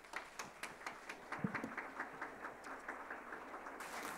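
An audience at a formal ceremony applauds, with scattered, rhythmic claps and a faint, steady background, heard from some distance.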